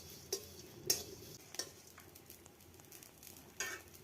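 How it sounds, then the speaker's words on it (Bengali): Fennel seeds, bay leaves and dry ginger dry-roasting in a pan, with several soft scraping stirs and faint crackles spaced apart, quiet and close, no talking. "প্রথমে মৌরি আর তেজপাতা, এখানে শুকনো আদা, এই 3 রকম আগে প্রথম ভেজে নেব।"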